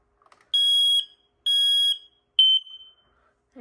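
Smoke alarm giving three loud, piercing electronic beeps during a monthly test, the first two long and evenly spaced, the last shorter, in a quiet room with no talking.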